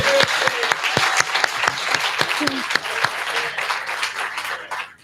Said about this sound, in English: we can give him a little clap